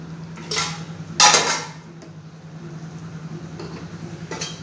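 White rice served onto a plate makes a few sharp clinks and scrapes of a serving spoon against the dish, one louder knock among quieter taps, over a low steady hum.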